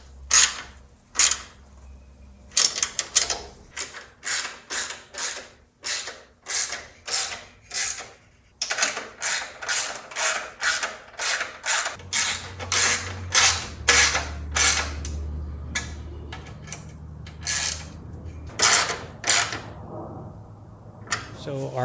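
Parts on a Porsche 2.0 engine being tightened by hand during final assembly, a long series of quick, close ratcheting clicks in rhythmic bursts, pausing briefly, with a low hum rising underneath partway through.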